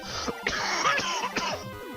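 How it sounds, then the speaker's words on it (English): A person coughs several times in a short, rough burst, close to the microphone, with no speech. "Had to cough there."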